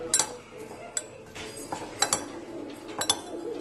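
A spoon stirs salsa soup in a bowl, making a string of sharp clinks and scrapes against the dish at an uneven pace, close and clear, with no talking.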